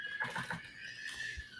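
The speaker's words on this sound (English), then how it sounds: "If you hear a baby screaming in the background" A small child screams and cries in the background of a room, shrill and strained, heard at moderate distance in short bursts.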